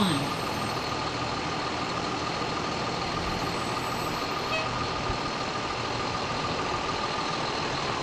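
A 1999 Emergency One fire rescue squad truck rolls in a fire company anniversary parade, its engine a steady, loud rumble with continuous broadband road and crowd noise throughout, and a voice talking faintly beneath.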